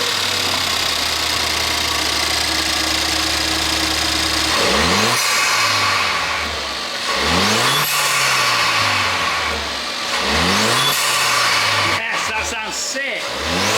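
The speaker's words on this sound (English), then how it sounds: "start it up, see if she sounds any better." Ford Fiesta ST180 with a new intake and a replacement air duct, engine idling and then revved hard several times in loud rising and falling sweeps, heard close up.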